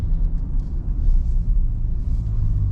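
A deep, steady supercharged V8 rumble from a Dodge Durango Hellcat SUV, with a throaty low exhaust drone, heard up close and loud, without any talking.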